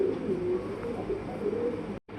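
Fancy pigeons coo softly and continuously in a low, throaty murmur at close range, with no talk over the sound and a brief dropout near the end.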